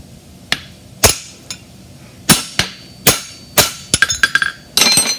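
A steel hammer drives a heel nail into a European hind bar shoe during farrier work, giving sharp ringing strikes, spaced at first and then in a quick cluster of lighter taps near the end.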